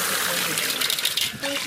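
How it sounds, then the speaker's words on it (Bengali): Running water rinsing lentils (dal) in a kitchen, a short splashing trickle and gush, close by, with a brief clink near the end. "ডালটাকে ভালো করে ধুয়ে নেব।"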